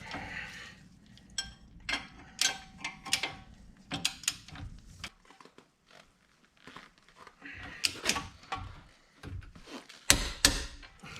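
Torque wrench tightening the bottom strut bolt on a 2012 Nissan Sentra front strut, giving scattered ratcheting clicks and metallic clatter in short bursts, close by and fairly quiet, with brief pauses between pulls.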